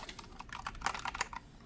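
Quick taps on a gaming keyboard, a short burst of about a dozen uneven keystrokes, close and fairly soft over faint room noise.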